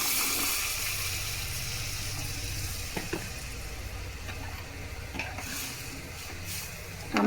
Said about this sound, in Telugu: కాస్త నీళ్ళు పోస్తున్నాను.